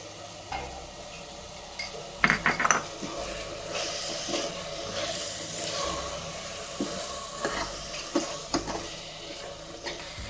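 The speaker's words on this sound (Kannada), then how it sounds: "ಇವಾಗ ಮಟನ್ನು ಚೆನ್ನಾಗಿ ಫ್ರೈ ಆಗಿದೆ" Mutton sizzling in a pan for biryani with intermittent scraping and stirring clatter, a steady frying hiss underneath and a few louder spoon knocks.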